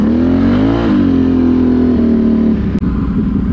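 The boat engine of the Renegade runs after its bomb tuner is refitted, a loud, close, steady drone whose pitch rises and then settles, with no voices.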